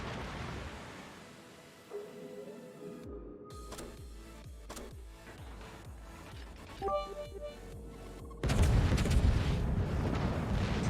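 Naval gunfire in World of Warships as an enemy ship lobs HE shells at a Tier IX German cruiser, the Ägir: a string of sharp booms and thuds at irregular intervals, building to a dense roaring rumble near the end.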